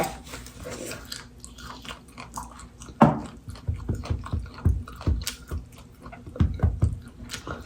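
Close, crunchy chewing and biting while eating a home-cooked Thai rice meal, irregular wet bites growing busier after a sharp thump partway through, with no talking.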